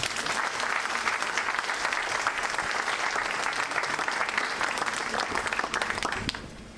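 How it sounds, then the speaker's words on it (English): A large audience at a 65th birthday lecture breaks into sustained, dense applause that holds steady for several seconds and tapers slightly at the very end. "Please, I want you all to give Baba a resounding round of applause."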